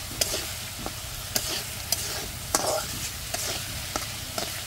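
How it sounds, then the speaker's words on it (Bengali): Eggplant pieces are stirred through a spice paste in a pan, sizzling softly under a regular series of sharp spatula clicks against the pan about every half second, close up with no voices. "কষানোর বিষয় হলো মশলার ভিতরে বেগুন দিয়ে দিলাম"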